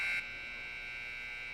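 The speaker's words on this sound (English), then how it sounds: "the officials and teams elect to just hit the buzzer and head back to the benches" A loud electronic period-end buzzer at an ice hockey game between the Redcaps and Riptide blares steadily for a fraction of a second, then cuts off, leaving faint arena hum.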